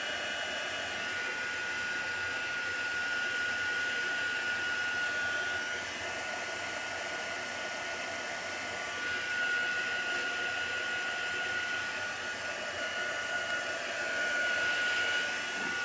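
A heat gun blows steadily while drying chalk paste, a continuous close whirring rush with a faint high whine that stays even for the whole stretch.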